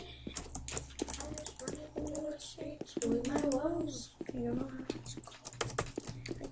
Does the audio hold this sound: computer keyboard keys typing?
yes